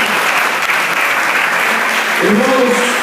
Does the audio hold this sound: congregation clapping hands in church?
yes